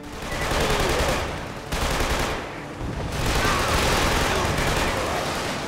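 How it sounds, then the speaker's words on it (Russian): Dense, continuous gunfire crackles in rapid bursts in the video game Killzone 2, loud and close, with brief lulls between volleys of shots. "Конвой встал! Мы под обстрелом!"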